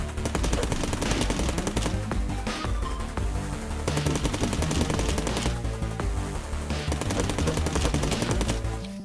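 Rapid, sustained assault rifle fire in the Cally's Trials platformer, aimed at a tough boss; dense bursts of shots run continuously, loud and close, layered with game music and effects, with no talking.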